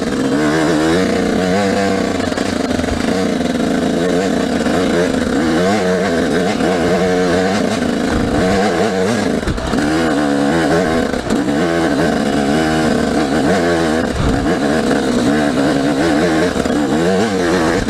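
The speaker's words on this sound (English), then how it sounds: "first gear, let the clutch out slow and give it gas." Dirt bike engine revving hard as it pulls away in first gear, a loud continuous buzzing roar close by with rising and falling throttle, no speech.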